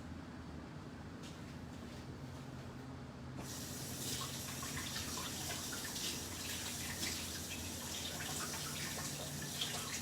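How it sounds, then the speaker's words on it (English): Hands are washed under a running kitchen tap: steady, fairly faint water flow that turns brighter and fuller partway through as the hands move into the stream, with no speech. "let me quickly wash my hands and then we begin rolling our wraps"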